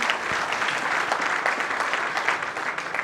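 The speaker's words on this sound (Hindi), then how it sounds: "जोरदार तालियां एक बार सिस्टम के लिए" Loud, steady applause fills the room after a business plan presentation, a dense wash of many hands clapping close by without pause for about three seconds.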